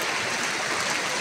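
A waterfall at Sabsaban Falls pours with water running through a bamboo channel, a dense, constant rushing wash heard up close with no voices.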